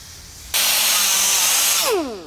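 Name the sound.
roughing up truck metal with 50 grit sandpaper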